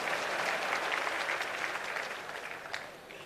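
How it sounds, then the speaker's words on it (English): Teachers clapping together in a hall for a Kenyan education official, a dense burst of applause that gradually thins and fades toward the end. "If you can't clap for yourself, who is going to clap for you?"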